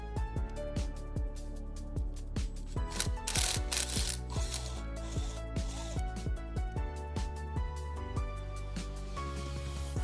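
A ratchet wrench rapidly clicks as oil pan bolts come off a Volkswagen Jetta 1.8 TSI with a leaking pan, the steady close ratcheting running nearly the whole time with a brief metallic rattle in the middle.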